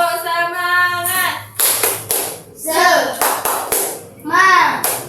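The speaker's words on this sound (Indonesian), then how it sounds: "Tepuk semangat." A class of fourth-grade children clap hands sharply in rhythm during a maths lesson, crisp claps interleaved with loud group chanting and shouting from the kids.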